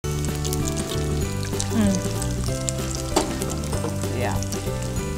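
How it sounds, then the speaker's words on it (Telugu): Spicy prawns frying in hot oil until golden, a loud, continuous sizzle and crackle close up, with occasional stirring noises over the steady frying. "మంచిగా అలా ఫ్రై అయిపోయి దాంట్లో ఉన్న పచ్చిదనం మొత్తం వెళ్ళిపోతుంది"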